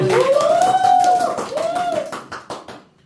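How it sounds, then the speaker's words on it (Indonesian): A small group gives a short round of hand clapping during an informal chat session, starting under a voice and thinning into a few scattered claps before fading out. "tepuk tangan dong, tetap semangat"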